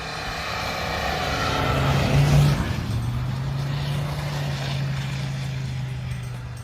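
A 1985 Benefactor Glendale diesel car in GTA San Andreas drones with a steady low engine hum that swells briefly and then settles into an even, sustained note, with a voice talking faintly over it.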